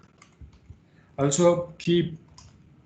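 Computer keyboard typing during an online tech meeting, with a few soft keystroke clicks early on before a person speaks briefly over them.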